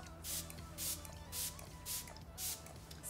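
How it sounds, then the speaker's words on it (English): Fix Plus setting spray hisses onto a face in four short, evenly spaced bursts from a close pump mister, each spritz a soft airy whoosh against a quiet room. "we're gonna spray a little Fix Plus everywhere"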